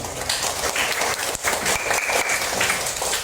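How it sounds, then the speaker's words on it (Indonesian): Classroom group applauding during an academic coaching session, a sustained burst of many hands clapping fairly close, lively and uneven, with little talk over it. "Oke, tepuk tangan."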